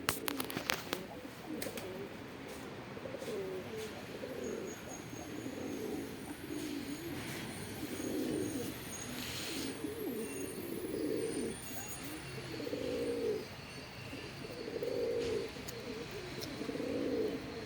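Pigeons coo in a steady series of soft, throaty calls, close and repeated at regular intervals over a continuous outdoor background hum.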